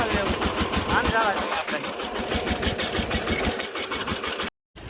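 A tractor engine runs nearby on a farm during sowing, a steady chugging drone with a rapid rhythmic pulse throughout, while people talk over it, cutting out briefly near the end.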